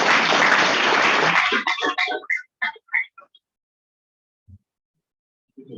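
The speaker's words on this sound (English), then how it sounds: "So please give them a round of applause." A Rotary Club meeting audience claps for two speakers, a short burst of applause that quickly tapers into a few scattered claps and then near silence.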